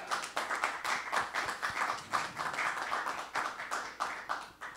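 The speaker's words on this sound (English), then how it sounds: "please clap for our great assistants" An audience claps for assistants at a presentation, a steady patter of hand claps from a modest crowd, fairly close and without talk.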